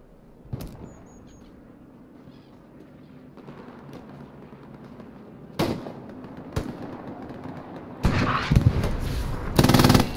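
Gunfire and heavy cannon blasts from tanks in the World War II game Hell Let Loose, with scattered sharp shots early and several loud, close bursts of firing building toward the end.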